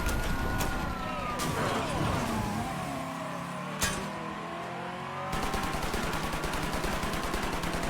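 Game gunfire in Mafia III rings out as a few sharp shots over a chase with engine roar and siren-like wails, then rapid repeated firing takes over toward the end.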